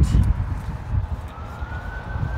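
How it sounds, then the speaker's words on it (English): Emergency vehicle sirens pass outside a home, a faint, distant wailing tone drifting under low rumbling room noise. "sorry about the sirens."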